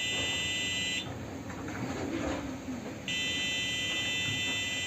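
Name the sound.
Arduino fire alarm buzzer sounding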